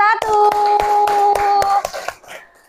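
Schoolchildren in a classroom clap together for a student group, about eight sharp, evenly spaced claps ringing out over a sustained chanted tone from young voices, then trailing off.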